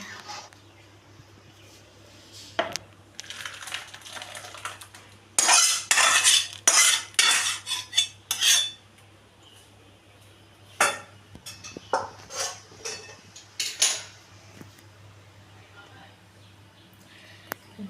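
Fish-head moong dal is served, with a metal ladle and utensils clinking and scraping against dishes in scattered bursts, several clustered clatters standing out against a quiet background.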